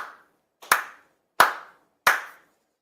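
Four sharp ritual hand claps at a Tenchi Kane no Kami Shinto-style monthly ceremony, one quick clap followed by three evenly spaced ones, crisp and close in a quiet room.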